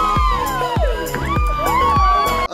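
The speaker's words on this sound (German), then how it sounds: "das gab schon lang nicht mehr, dass Mädels so laut geschrien haben" Loud crowd of girls screaming and shrieking continuously in a reality dating show setting, with rising and falling cries over a dense, excited cheering din.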